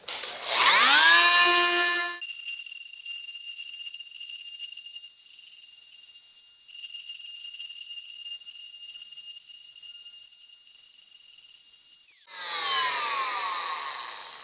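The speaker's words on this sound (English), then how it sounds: "let's go ahead and get this foam insert sanded down to the correct size" A power tool sanding down a foam insert for HO scale model coal loads: the motor spins up with a rising whine, holds a steady high-pitched tone for about ten seconds, then winds down and restarts briefly.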